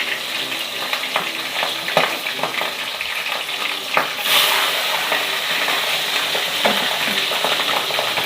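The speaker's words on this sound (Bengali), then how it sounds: "এবার আমি আস্তে আস্তে করে মাছগুলো ভেজে নিব।" Fish pieces frying in hot mustard oil, a close crackling sizzle punctuated by stirring and scraping clicks, swelling into a louder, steadier hiss partway through as more fish hits the pan.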